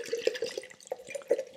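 Korn liquor is poured onto fresh peppermint, making a soft, uneven trickle of liquid with small splashy drips, close and quiet.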